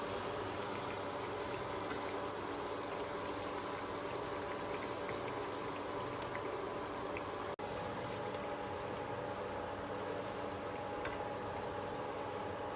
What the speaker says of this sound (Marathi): आता आपण हे दोन्ही बाजूनी तळून घेऊयात